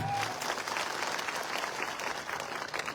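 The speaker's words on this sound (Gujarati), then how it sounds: "એકવાર સરપંચો માટે જોરદાર તાળીઓ પાડી લો." Dense, steady applause from a crowd at a gathering of village council heads fills the whole stretch, loud and continuous without a break.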